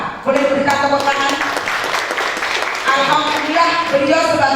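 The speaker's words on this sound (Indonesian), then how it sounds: "Boleh berikan tepuk tangan." Audience applause at a Jakarta community congress, steady clapping from a crowd running through the moment while someone speaks over it with a harmonic, musical tone.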